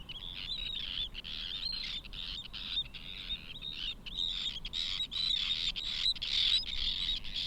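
A dense flock of Arctic terns in Iceland calls continuously while mobbing intruders, sharp high shrieks and chatter overlapping at close to middle distance, with no pauses.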